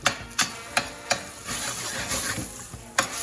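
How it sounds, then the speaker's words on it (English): Lobster knuckle meat sautes in a pan on high heat, a loud continuous sizzle punctuated by several sharp spatula scrapes as the meat is broken up and stirred. "we're just gonna saute this lobster meat"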